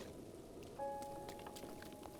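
Rainfall in The Legend of Zelda: Breath of the Wild, a faint, soft patter of drops on surfaces running steadily throughout, with a quiet tonal chime sustained over it from partway in.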